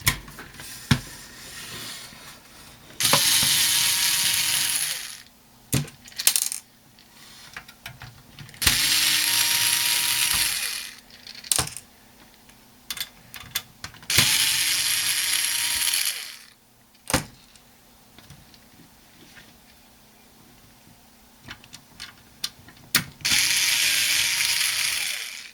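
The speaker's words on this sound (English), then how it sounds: "we should be able to get these screws out" Screws are backed out of a DirecTV set-top box with a ratcheting driver: four loud, close bursts of rapid clicking, each about two seconds long, separated by quieter handling knocks and taps. No one speaks.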